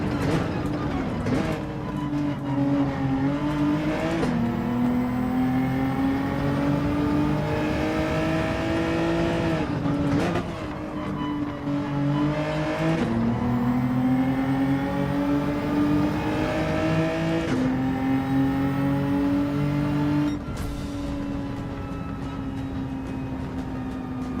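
A race car engine in the Gran Turismo 7 video game roars loud and steady, climbing in pitch through each gear and dropping sharply at every shift, with several upshifts over a long run.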